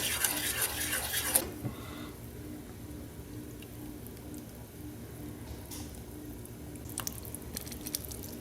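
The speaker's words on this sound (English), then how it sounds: "Just give it a little stir." A spoon stirring cracked pepper and seasonings into a mix for a Texas-style pork shoulder rub, heard as a quiet, close scrape in a bowl, followed by soft intermittent clinks and squishy stirring noises.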